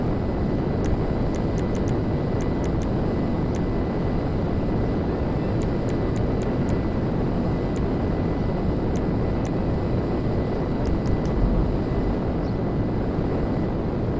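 Steady, continuous roar of a jet aircraft engine in GTA 5 Online, a broadband wind-like rush held at constant loudness throughout, with faint intermittent clicks above it and no talking.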